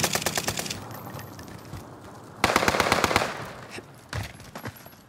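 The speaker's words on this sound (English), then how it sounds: "They're shooting at me." Rapid automatic gunfire from a Call of Duty: Modern Warfare match, with dense bursts of shots, a brief pause, then a loud renewed burst and a few scattered shots near the end.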